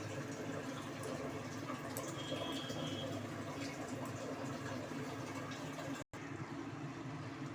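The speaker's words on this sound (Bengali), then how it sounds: "ঝোলটা ফুটে উঠেছে। এবার আমি কোপ্তাগুলো, এঁচোড়ের কোপ্তাগুলো দিয়ে দেব একে একে।" Jackfruit koftas made with mutton fat go one by one into a boiling gravy; a steady, soft bubbling and simmering runs throughout, broken by one brief gap.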